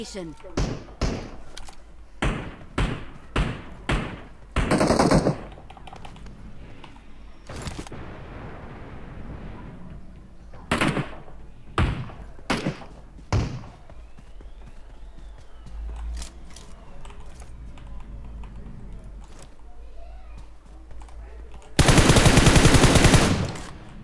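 Gunfire in the battle-royale mobile game PUBG Mobile on the Erangel map, with bursts of sharp shots in quick clusters early on, scattered later, and a loud sustained blast near the end, under players talking.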